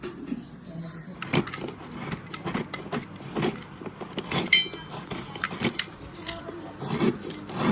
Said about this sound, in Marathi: बाकीची गुळ बिळ किसून घेते गुळ किसून घेते